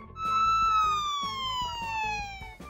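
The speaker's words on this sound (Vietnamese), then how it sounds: "Xe cảnh sát," A cartoon police car siren from a children's animated vehicle puzzle, a loud wailing electronic tone sliding slowly downward with regular pulsing clicks underneath, heard alone and close.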